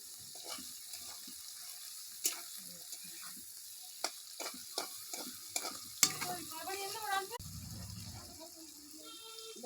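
Potatoes fry quietly in a pan, a soft low sizzle with repeated spatula scrapes and taps, and a voice talks over the cooking in places.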